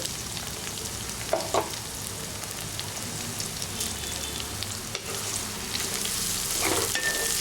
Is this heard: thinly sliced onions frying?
yes